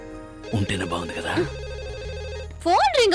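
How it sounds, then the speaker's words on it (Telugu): A telephone rings with a warbling electronic tone near the end, following a stretch of music and talk in a Telugu love scene. "ఫోన్ రింగ్ అవుతుందండి."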